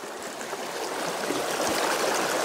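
Water in a stream rushes and swirls around a pair of wellington boots, a steady close hiss of flowing water with no pauses.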